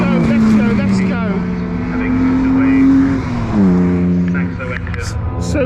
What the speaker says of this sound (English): We have Connolly and the Fiesta STs coming around.